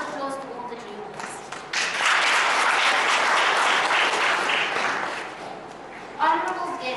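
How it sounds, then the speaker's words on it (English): Audience applauding at a business event on women entrepreneurs, a full round of clapping that swells and holds steady for several seconds, with a speaking voice before and after it and a brief burst near the end. "A round of applause to all the juniors."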